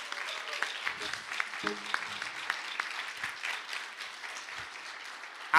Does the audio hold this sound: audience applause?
yes